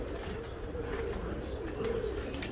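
Pigeons cooing in a backyard loft flock setting, a soft, low repeated coo heard faintly amid background noise with a few light higher chirps, fairly distant and quiet, no speech.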